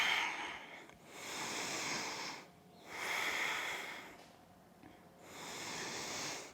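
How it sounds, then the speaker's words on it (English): Slow, deep ujjayi breaths during a warrior 1 pose in a power yoga session: three long, rasping airflow swells with brief quiet gaps between them, close and steady. "deep ujjayi breaths"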